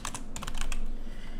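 Computer keyboard typing up close, a quick run of light clicking keystrokes over a steady low background rumble, with no talk.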